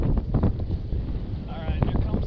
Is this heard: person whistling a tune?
no